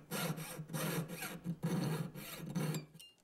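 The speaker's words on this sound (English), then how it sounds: "I will saw this out on each side, leaving my scribe lines." Rapid back-and-forth strokes of a fine saw cut through a metal clay box clasp, close and crisp, in several bursts with brief pauses between them.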